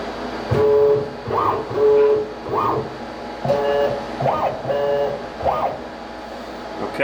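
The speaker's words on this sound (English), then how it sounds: "we're going to probe it at 30 inches per minute" A machine probe measuring the 15 mm internal diameter of a bearing at 30 inches per minute, giving a series of about seven short rising-and-falling motor whines spaced roughly a second apart over a steady mechanical background.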